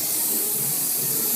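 A steady hairspray aerosol hiss sprays continuously for a moment from about 30 centimeters, close and fairly loud, with no talking.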